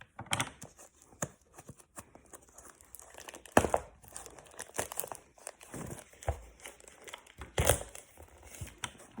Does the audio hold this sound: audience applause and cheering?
no